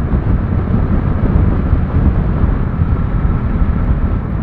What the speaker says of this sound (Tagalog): Pati dito ang lakas ng hangin.